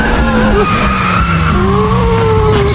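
A car's tires skid and squeal as a learner driver pulls away, a loud sustained screech with wavering pitch over engine noise, lasting throughout.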